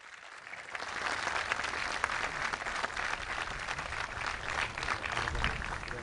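Applause from an audience at a public opening event, a steady, moderately distant wash of clapping that swells slightly and holds for several seconds without talk.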